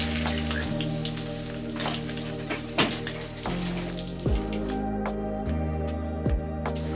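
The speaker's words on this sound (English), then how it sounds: "And you're going to let that fry for about 5 minutes" Chicken wings fry in hot oil with a constant crackling sizzle and scattered pops, close and fairly quiet, with a low steady hum beneath and no talking.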